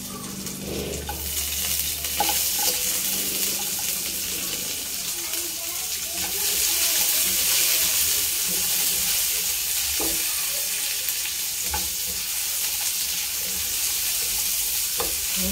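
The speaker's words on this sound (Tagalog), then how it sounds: "Gisa natin yung bawang. Meron natin yung ating sibuyas." Garlic and onion sautéing in a pan for a mung bean stew, a steady loud sizzle and frying hiss close by with occasional stirring clicks, and a voice speaking over it.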